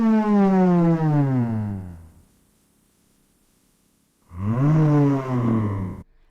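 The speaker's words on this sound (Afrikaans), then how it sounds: "Buffels maak 'n diep geluid." Two deep, drawn-out buffalo bellows, loud and close, each sliding downward in pitch and separated by a few seconds of near silence.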